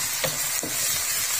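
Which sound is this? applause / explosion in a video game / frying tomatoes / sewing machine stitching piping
frying tomatoes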